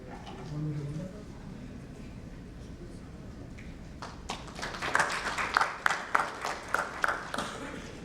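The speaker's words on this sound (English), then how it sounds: "A big round of applause." Scattered clapping from a small audience at a corporate finance fireside chat builds after a quiet start, with distinct claps toward the end and a speaker's voice heard earlier.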